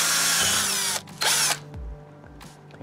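Power drill making holes for a low-voltage banana jack bracket, two loud bursts of whining motor with a short pause between, followed by quieter handling clatter.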